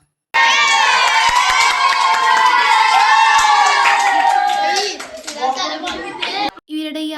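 A loud crowd of children cheers and shouts together, sustained excited yelling with some clapping, then fading into scattered voices.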